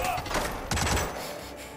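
Gunfire from the Hitman video game: a burst of loud, close shots with thudding impacts, followed by a further shot, while an excited voice reacts over the action.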